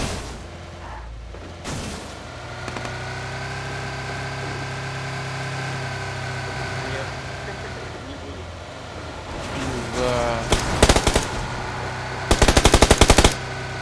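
Gunfire in a PUBG Lite match, with a hum of an engine under sparse single shots and then rapid bursts of automatic fire near the end, loud and close, with talk mixed in.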